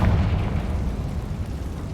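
A Confringo fire spell bursts in a tomb in Hogwarts Legacy, a loud booming explosion with a dense low rumble that fades over about two seconds, with no voices.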